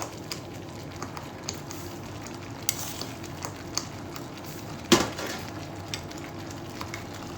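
Mango pieces heating with sugar in a pan for payasam, a soft low sizzle under scattered spoon scrapes and taps, with one louder clank near the end.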